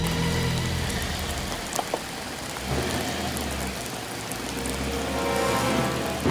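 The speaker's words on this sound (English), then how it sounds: "this thing is big and scary, and it's raining" Rain falls steadily on a police car, a dense hiss of drops pattering on a surface, with a low engine hum underneath.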